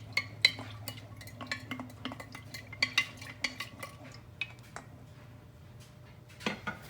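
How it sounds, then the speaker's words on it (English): A spoon stirs sugar into hot water inside a jar for homemade apple cider vinegar, with a run of light clinks and taps against the glass at an irregular rhythm, close and fairly soft. "we're just going to give it a mix. And make sure you get all your sugar dissolved"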